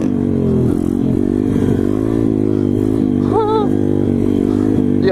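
Street-legal SSR pit bike engine while riding, a steady loud drone with a brief rising rev in the middle, heard close and continuous without talk.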